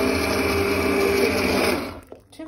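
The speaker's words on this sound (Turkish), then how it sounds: "şöyle blender'da" An electric blender purees a pot of red lentil soup, a loud steady motor whir with dense broadband churning that runs continuously for about two seconds, then cuts off abruptly, leaving brief faint clatter.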